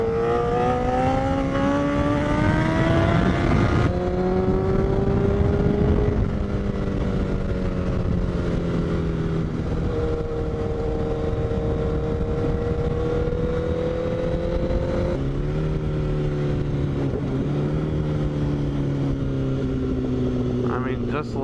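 A motorcycle with a nearly straight-piped Toce exhaust runs continuously, giving a loud, close, throaty engine drone whose pitch rises and dips slightly with the throttle, and a voice talks over it.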